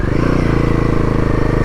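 A motorcycle climbing a snowy mountain road on the way to Adi Kailash, its engine droning loud and close with a steady throbbing pulse, and no talk over it.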